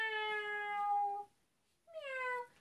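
A human voice imitates a cat, giving two drawn-out meows separated by a short pause, close and clear with no other sound.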